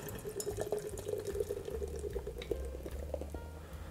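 Unfiltered craft beer pours and trickles into a glass with a steady liquid gurgle and a few drips, close by and fairly quiet, with no talking.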